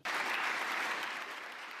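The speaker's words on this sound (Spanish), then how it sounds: "Aplausos para un discurso" Full hall applause following Marco Rubio's speech at the Munich conference, a dense, sustained wash of many hands clapping that starts abruptly and holds steady, easing slightly near the end.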